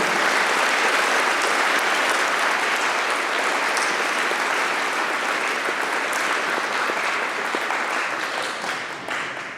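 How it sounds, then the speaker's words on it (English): Sustained applause from a large school assembly crowd honouring veterans at a junior-senior high school Veterans Day event, dense and steady throughout before easing slightly at the end. "Let's give our veterans one more round of applause for being here today."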